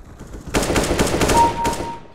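Automatic gunfire in the video game CS:GO: a rapid, loud spray of about a dozen evenly spaced shots, close and alone, with a faint tone underneath.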